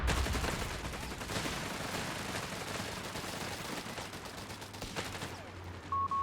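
Submachine gun fire in Company of Heroes 3, in a 2v2 battle: a dense, continuous crackle of distant automatic shots and fighting that fades near the end.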